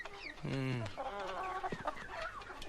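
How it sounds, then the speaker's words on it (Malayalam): Chickens clucking and squawking inside a vehicle, loud close-up cackles with one long drawn call, forming a dense burst of fowl noise. "എന്താണ് വണ്ടിയില്? കോഴിയാ സാർ, നല്ല വയറ്റിലൊന്നും കോഴി."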